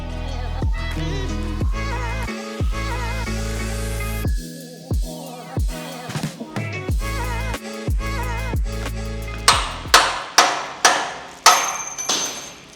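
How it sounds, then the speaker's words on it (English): A hammer striking a chisel to knock welds off a Toyota Land Cruiser chassis, with a long series of sharp, ringing metallic blows, close and loud, coming faster and harder toward the end. "I just snapped my chisel."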